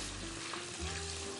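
Potatoes sizzle and fry in an oil-filled pan, making a steady close crackling hiss that runs unbroken and evenly loud from start to finish with no talk.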